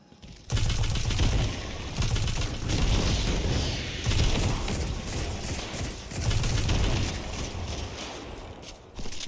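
Hand cannon gunfire in the video game Destiny 2, several loud bursts of shots and impacts in close succession, interspersed with mechanical clicks and brief gaps.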